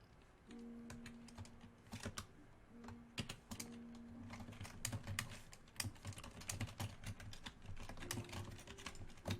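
Code being typed on a computer keyboard: a steady run of close, crisp key clicks in irregular bursts, with occasional louder strokes, alone without talk.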